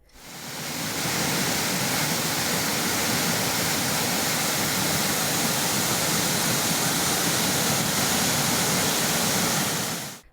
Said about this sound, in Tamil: ஆணைவாரி நீர்வீழ்ச்சியில் தண்ணீர் ஆர்ப்பரித்து கொட்டுகிறது